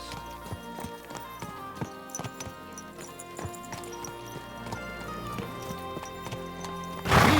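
Horse hooves clip-clop at a steady walking rhythm in Kingdom Come Deliverance 2, close and clear over ambient game music, with a brief neigh and a burst of louder noise near the end.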